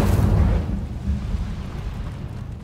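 An Incendio fire spell cast in Hogwarts Legacy gives a loud, deep fiery whoosh and rumbling burst that starts strong and slowly fades, heard alone without speech.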